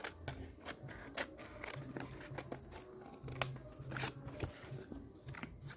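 Scissors cut a piece of paper for a reading journal: a run of short, crisp snips and rustles close by at low volume, with no voices.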